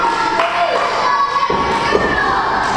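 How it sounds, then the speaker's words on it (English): A wrestling crowd at the Battlezone arena chants for a wrestler, a loud, dense mass of shouting and cheering voices with a thud in the middle. "Crowd here at the Battlezone chanting TJ in honor of Tornado Jones."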